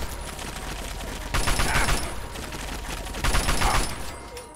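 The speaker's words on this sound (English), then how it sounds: "Assault rifle." Assault rifle fire in Fallout 3 comes in two short bursts of rapid shots over a constant background hum, fairly close and loud.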